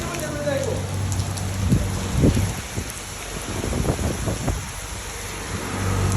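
Steady rain in Gazipur, Bangladesh, patters and hisses on surfaces nearby, while a few muffled thumps and passing engine noise rise and fall beneath it.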